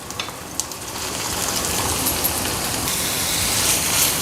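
Onions hit hot oil in a kadai and set off a loud, dense sizzle that swells after a few light taps and keeps crackling steadily.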